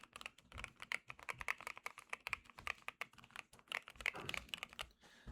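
Keys clatter on a Keychron wooden mechanical keyboard, a fast, steady run of crisp, close clicks and clacks that continues without pause and tapers briefly at the very end, with no talking over it.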